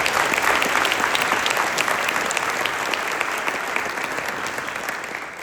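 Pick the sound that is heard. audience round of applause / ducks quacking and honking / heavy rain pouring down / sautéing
audience round of applause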